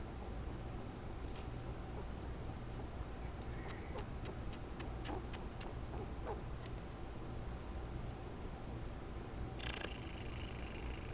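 Pet purring close up, a low continuous rumbling hum with faint irregular clicks and ticks scattered over it and no talking.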